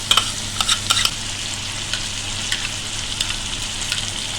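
Tomato-onion puree fries in a karahi with a continuous close sizzle. Several sharp spatters and stirring clacks come near the start and then sporadically, and no one speaks.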